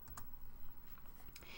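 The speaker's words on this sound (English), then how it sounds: "So I'm going to push enter on the keyboard." Several soft key clicks on a computer keyboard, a couple of sharper taps standing out near the start and end over a quiet room, one likely the enter key.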